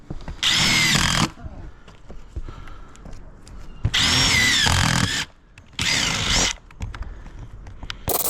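A power drill drives screws into a mobile home roof in three loud, close bursts of whirring, each lasting about a second, with quieter scraping and handling noises between them.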